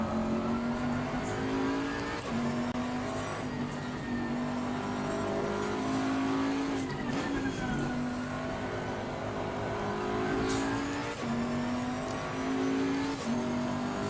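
A Porsche race car engine laps the Nordschleife in Assetto Corsa, its steady loud drone rising and falling through gear changes and revs for the whole stretch, with faint tyre noise beneath.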